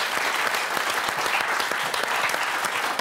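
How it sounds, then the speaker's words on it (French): Dense, loud applause from a game-show studio audience for four contestants, continuous clapping throughout with no talk. "on va applaudir nos 4 candidats"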